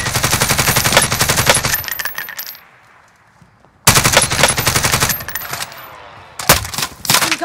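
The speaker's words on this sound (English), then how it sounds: "Incoming rounds." Call of Duty gunfire rattles in loud rapid automatic bursts, a long volley, a pause with a fading tail, then more sustained firing and a final short burst.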